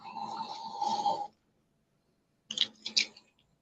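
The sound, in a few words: snoring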